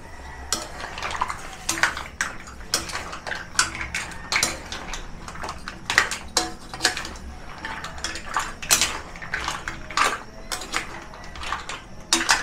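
Spoon scraping and clinking against a pan while stirring a simmering garlic butter cream sauce, a steady run of sharp metallic taps over a soft low bubble.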